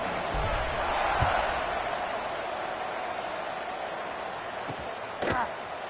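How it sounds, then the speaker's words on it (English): Crowd noise in a college football video game, a dense continuous roar filling the stadium with a couple of sharp thuds, while a commentator talks over it. "this crowd is buzzing after that last score"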